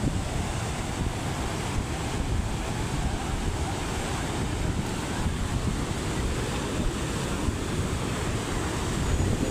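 Rough, churning sea after three days of continuous rain, heard as a steady loud roar of surf and wind buffeting the microphone throughout, with no speech.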